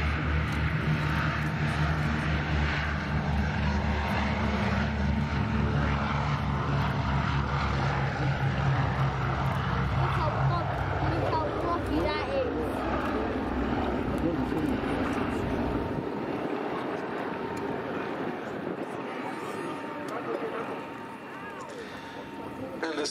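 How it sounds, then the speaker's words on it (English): Boeing B-17G Flying Fortress four-engine propeller bomber takes off at a Duxford air show, a loud steady piston-engine drone that fades over time, with a commentator talking throughout. "one of the great favourites of any Duxford air show, the Boeing B-17G Flying Fortress,"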